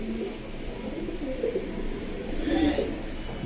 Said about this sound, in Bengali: দেখেন এখানে যেমন কবুতর আছে অনেকগুলো